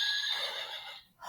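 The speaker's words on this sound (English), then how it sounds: "I heard the horse neigh." A recorded horse neigh plays from a touch-and-feel farm-animal sound book, a short high whinny with a wavering pitch, loud and close, then fading out quickly.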